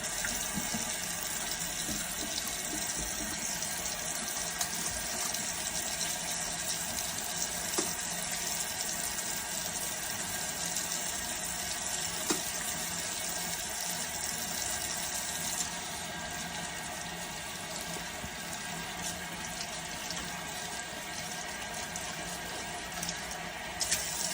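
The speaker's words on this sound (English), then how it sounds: "Put these over here so I can wash those hands right now." Tap water runs steadily in a kitchen sink as hands are washed while brining a turkey, a continuous even hiss lasting throughout at moderate level.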